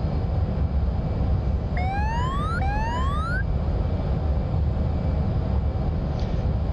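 An F/A-18C jet takes off in the DCS flight simulator, a steady loud broadband engine roar that stays unbroken throughout, with a pair of rising electronic tones sweeping upward over it early on.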